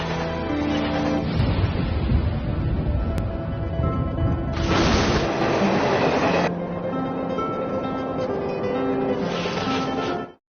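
A train runs on its rails, heard from inside the cabin: a steady, loud rumble with surges of broad rushing noise that come and go.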